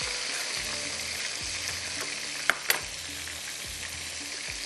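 Tomatoes frying in a pan for mutton curry, a soft steady sizzle with a couple of sharp utensil clinks midway, fairly quiet and close.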